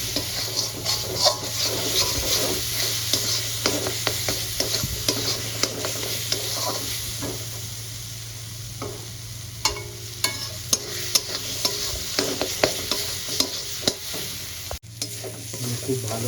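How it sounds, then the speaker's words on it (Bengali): A paste of onion, ginger, garlic and green chili is slowly fried in a pan for a jackfruit and prawn curry, a steady loud sizzle under continuous spatula scraping and occasional sharp clacks, close by with no speech. "পেঁয়াজ আদা রসুন কাঁচা লঙ্কা বাটাতে একটু ধৈর্য ধরে সুন্দর করে কষাতে হবে"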